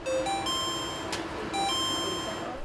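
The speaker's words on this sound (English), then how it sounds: "chimes go off" Soft electronic chimes ring in a sustained, bell-like tone over a quiet room hum at a blood donation center, with a faint click partway through.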